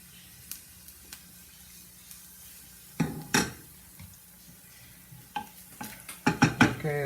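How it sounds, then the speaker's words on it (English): Diced onion sautéing in a little oil for a pasta sauce, a faint low sizzle beneath scattered spoon-on-pan clinks and scrapes that grow busier and louder toward the end, no talking. "Then we have the diced onion is going in. Going to let that saute a little bit."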